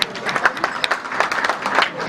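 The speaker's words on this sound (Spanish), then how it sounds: "También un aplauso para Víctor." Audience applause in a Spanish-language meeting hall, a steady patter of many hands clapping at moderate volume for a couple of seconds with faint voices underneath.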